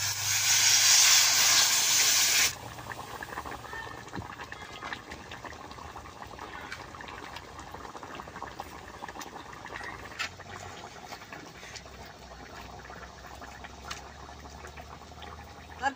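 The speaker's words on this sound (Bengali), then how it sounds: "জলটা দিয়ে দিব।" Water poured into a hot pan of cooking vegetable curry gives a loud, bright hiss for about two seconds, then settles into a steady, softer bubbling simmer that runs on alone.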